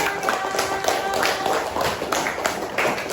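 Children in a classroom clap their hands in a dense, fairly loud patter that runs the whole way through, with voices mixed in.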